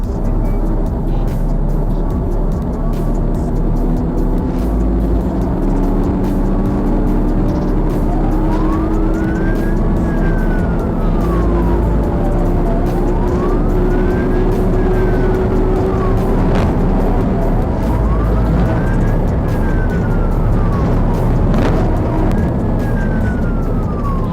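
A police siren wails up and down in slow repeating cycles during a pickup truck chase, over the rumble of nearby traffic, loud and steady throughout.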